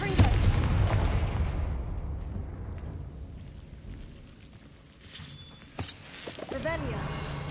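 A Confringo fire spell explodes in the Hogwarts Legacy video game with a heavy boom that fades into rumbling debris, followed by a quieter whooshing spell effect.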